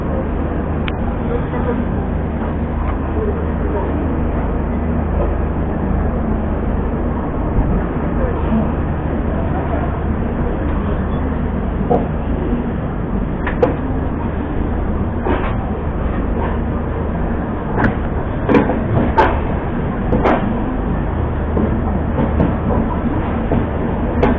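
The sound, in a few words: Bihar Sampark Kranti express train departing New Delhi station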